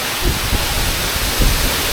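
Loud, constant rushing roar of a waterfall in Misamis Occidental, a dense wash of noise with no pauses.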